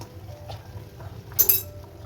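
A small spoon clinks against a pot of moong dal with bottle gourd and bitter gourd as ghee is added, a couple of bright metallic taps near the end over a quiet kitchen background.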